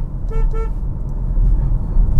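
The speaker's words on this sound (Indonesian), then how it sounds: "Klaksonnya tuh masih cupu" A 2021 Hyundai Kona Electric sounds its horn in two quick, thin, high-pitched toots close by, over steady low road and engine rumble.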